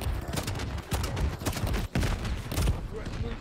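Sustained heavy gunfire in Call of Duty Modern Warfare 3, loud overlapping bursts and shots in a tight rolling barrage with a short break near the middle, voices faintly mixed into the battle.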